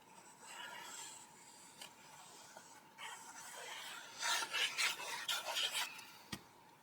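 Paper is burnished onto a page of a recipe album, soft close rubbing strokes that come in quick bursts, faint at first and building to a brisk scraping flurry.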